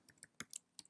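Quick keystrokes on a computer keyboard, a few sharp clicks in a short irregular burst, close and fairly quiet with no talking.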